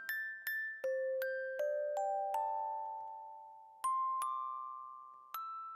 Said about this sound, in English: Some nice little bells.